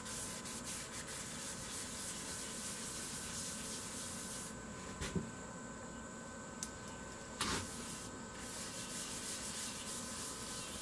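Sanding paste rubbed by hand onto a dishwasher-damaged wooden bowl, steady soft rubbing and friction noise with a few brief knocks and squeaks, close and quiet.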